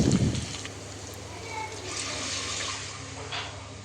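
Water is poured into a cooking pot for Telangana-style bagara rice, beginning with a brief splashing burst and then settling into a steady rushing stream.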